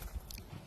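One quick crisp bite into a fresh green almond on a farm, a faint short crunch heard close and alone.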